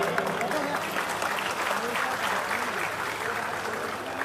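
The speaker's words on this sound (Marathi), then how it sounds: "सगळ्यांनी एक जोरदार टाळ्यांचा नाद करायचा आहे" Sustained applause from a gathered crowd at a Maratha and Dhangar student hostel groundbreaking ceremony in Mumbai, a steady dense wash of clapping with voices mixed in throughout.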